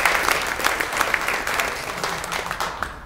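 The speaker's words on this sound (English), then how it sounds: "So let's have a round of applause for ourselves." Audience at an internet identity workshop applauds steadily, many hands clapping in a close, continuous wash that slowly thins toward the end.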